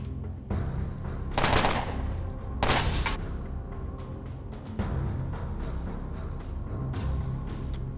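Gunfire from the Underrail video game as turrets are shot at: two sharp, loud bursts of shots close together, then scattered quieter shots over a low rumbling game background, with no talking.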